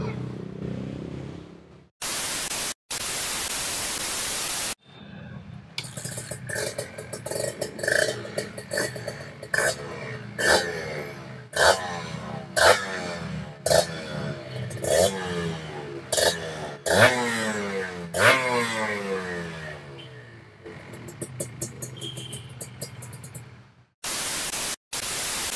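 Modified late-1990s Kawasaki Serpico 150 SS two-stroke motorcycle started and revved close up, a rough buzzing engine rising and falling in repeated throttle blips for about twenty seconds between bursts of loud static.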